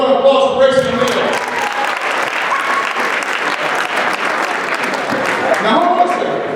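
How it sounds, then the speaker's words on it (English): Loud, steady applause from a school assembly audience at a boys hockey event, sustained throughout with cheering voices and a brief speaking voice near the start, fading into talk toward the end. "Give a round of applause for Brayson and Leo."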